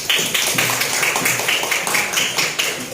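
A classroom group claps in a steady rhythm, with sharp repeated hand taps sounding close and fairly loud for a few seconds, without speech.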